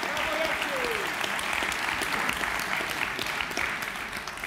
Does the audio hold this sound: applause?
yes